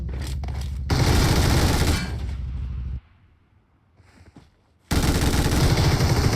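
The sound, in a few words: heavy gunfire in video game PUBG Mobile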